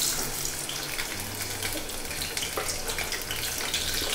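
Dried fish (loitta shutki) frying in oil in a pan, giving a steady, close sizzling hiss throughout.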